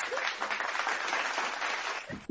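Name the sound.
audience applause for Shannon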